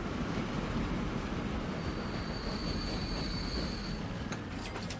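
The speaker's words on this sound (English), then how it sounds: "instead what we'll do is we'll use the train to move people most of the way" A train in the video game Transport Fever 2 rolls steadily along the rails with a continuous rumble and high, thin wheel squeals, without any talk.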